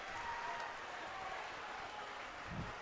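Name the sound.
student section clapping at a high school basketball game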